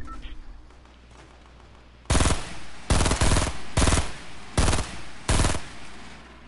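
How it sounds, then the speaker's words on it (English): Loud video game gunfire erupts after a quiet stretch in five bursts of rapid automatic shots, each burst under a second and spaced evenly apart. "Yo, I hear shooting."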